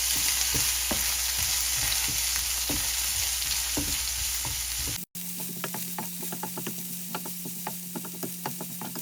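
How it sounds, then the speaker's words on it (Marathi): Chopped onions and chili frying in a pan for an Indian prawn fry: a steady, loud sizzle with a brief break partway through, then continued frying with repeated scraping and stirring clicks, no talking. "टाकतोय चॉप्ड केलेले अनियन्स आणि चिली मिरची टाकतोय आणि ह्यानंतर फिरवून घ्यायचं कांदा"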